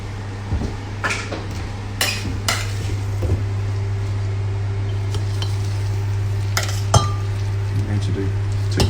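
A spoon clinks against dishes and pans while serving portions of salmon and rice in a home kitchen, giving scattered sharp knocks and scrapes over a steady hum with faint sizzling.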